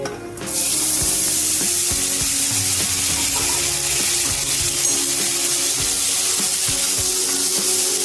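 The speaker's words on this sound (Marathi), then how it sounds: "जिरं छान तडतडल्यावर आपण यामध्ये हे मटार घालून घेऊया।" Green peas drop into hot ghee with cumin in a kadhai and burst into a loud hissing sizzle about half a second in, then keep frying with a steady, close spatter.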